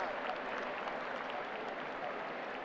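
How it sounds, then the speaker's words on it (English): Sustained applause from teammates and a stadium crowd in Boston during a high school Thanksgiving football game between FHS and Leominster, as an injured player is carried off on a stretcher; steady, fairly distant clapping with crowd murmur throughout. "gets a round of applause from his teammates and from the fans here in Boston"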